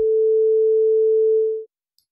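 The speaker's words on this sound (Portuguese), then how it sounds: "Esse é o som de uma onda senoidal." A pure 440 Hz sine wave tone, a single steady unwavering pitch held loud and alone for about one and a half seconds before it cuts off into silence.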